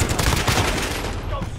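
Rapid automatic gunfire in Call of Duty Warzone, a loud dense burst of shots rattling close and continuous before trailing off.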